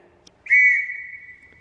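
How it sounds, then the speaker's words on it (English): A dog-training whistle gives one sharp, loud, steady high tone that starts abruptly and holds for about a second before fading out, heard alone with no talking. "you should use that whistle and teach her to come to it, Sophie"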